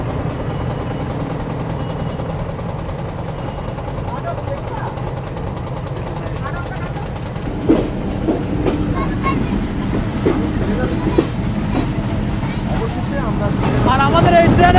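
The Rocket Mail train running from Khulna to Parbatipur gives a continuous loud onboard rumble with wind noise and scattered clickety-clack knocks, swelling toward the end.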